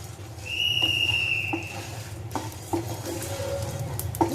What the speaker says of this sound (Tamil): இது நல்ல ஃப்ளேவர் வந்து இந்த பொரிப்படுறது பார்த்தீங்களா